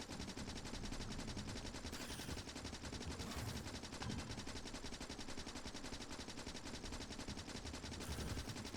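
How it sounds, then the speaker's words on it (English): Rapid continuous machine-gun fire in the Factorio video game, a dense unbroken stream of shots lasting the whole stretch, steady and fairly quiet. "That must have eaten like 400 bullets easy. All of that. It's a lot of shooting."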